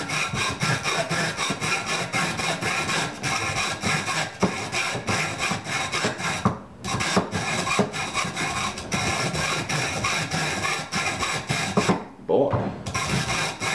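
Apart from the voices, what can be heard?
hacksaw cutting a bowfishing reel handle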